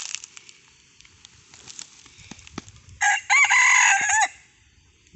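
A rooster crows loudly and close, a long sustained call near the end, after scattered clucks and rustling from chickens around a chicken trap in Đắk Lắk.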